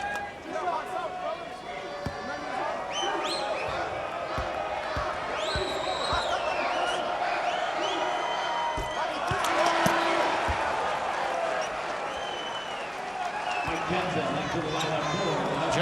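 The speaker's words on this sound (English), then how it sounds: "listen to the crowd respond to his play" A college basketball arena crowd at an NCAA tournament second-round game, University of Washington against Pacific, with sustained roaring and cheering and squeaking sneakers under steady play-by-play commentary.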